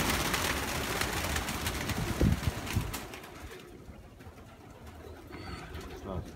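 Pigeons coo nearby in soft, low, repeated calls over a noisy outdoor background.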